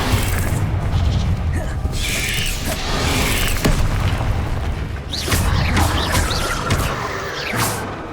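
Confringo fire spell explosions from the Hogwarts Legacy video game give repeated booming blasts and whooshes layered over battle effects, while a voice calls out spell names.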